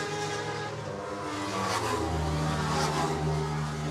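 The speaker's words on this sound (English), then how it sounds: "So the two Ducatis thundering past the pit lane cafe" Two Ducati motorcycles thunder past the pit lane cafe during a 10-lap road race at Kirkistown, engines rising in a loud revving roar and sweeping by at a steady distance, with no talk.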